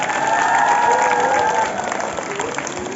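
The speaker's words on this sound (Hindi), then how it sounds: "एक बार उन सब के लिए जोरदार तालियां।" Applause from a gathering at a residential school, honoring the mess team who arranged lunch and sweets; loud, continuous clapping with crowd noise, tapering slightly toward the end.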